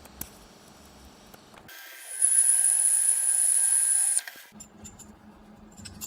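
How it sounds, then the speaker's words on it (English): An additional metal plate being welded onto a desk frame: a steady, loud crackling hiss with a thin high whine that lasts about two seconds, then cuts off, with quiet handling noise before and after. "Now I'm just welding on an additional plate that will engage in the slot in the back."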